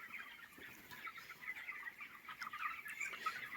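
Many chickens on a poultry farm clucking and chirping together in a soft, continuous chatter, with a few sharper calls rising above the flock.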